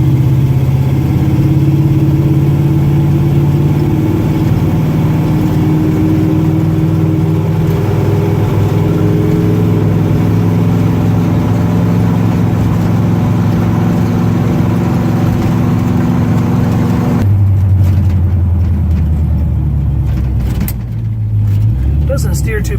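A 1963 Chevy C-10 shortbox two-wheel-drive pickup drives down the road, its engine droning loud and close from inside the cab with rising and shifting tones through gear changes, settling lower near the end.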